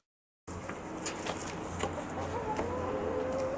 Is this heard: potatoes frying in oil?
no